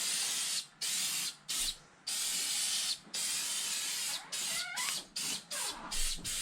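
Repeated bursts of aerosol plastic conditioner sprayed onto RC car battery trays, a series of short and longer hissing blasts separated by brief pauses, close and fairly loud with no talk.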